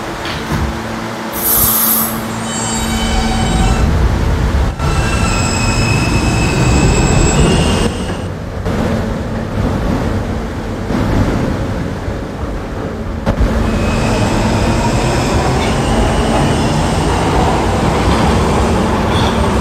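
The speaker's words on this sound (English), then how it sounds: "This is a Catlin bound K train." An R160A subway train on the K line in the Roblox game rolls along with a loud continuous rumble, high squealing wheel tones and shifting whines as it runs between stations.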